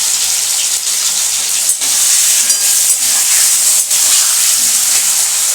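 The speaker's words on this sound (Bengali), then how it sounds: "এটাকে একটু ভেজে নেবো।" Capsicum frying in a pan with paneer and mushroom masala, a loud, steady hissing sizzle throughout with a few brief dips.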